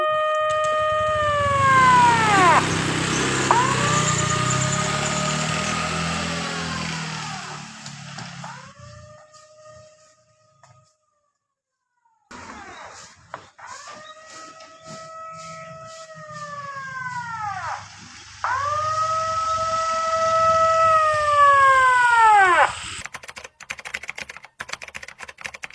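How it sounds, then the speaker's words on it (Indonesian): A siren wails in long rising and falling sweeps, pitch dropping as it moves away, going silent, then returning strongly as it approaches again, loud and alone with no voices. "Kita akan menganalisis gelombang bunyi dari suara sirine yang menjauh dan mendekat"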